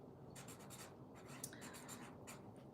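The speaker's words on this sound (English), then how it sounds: "let me just write out my sticky note" A pen scratches out a note on a small sticky note, with soft, close strokes in short bursts against a quiet room background.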